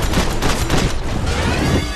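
Loud, close SMG gunfire in the Max Payne 3 video game: a dense fusillade of rapid shots with booming, overlapping bursts filling the short stretch.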